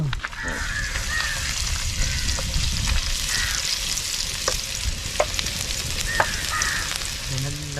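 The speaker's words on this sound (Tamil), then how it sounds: "இஞ்சி பூண்டு போட்டு தாளிக்கணும்" Steady crackling sizzle of ginger and garlic frying in hot oil, with occasional sharp pops and a faint honking sound in the background.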